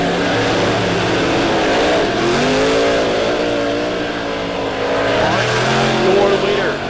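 Dirt track race cars circle Lebanon Midway Speedway during heat races, a continuous loud drone of multiple engines revving and rising in pitch as they pass, under an announcer's steady commentary.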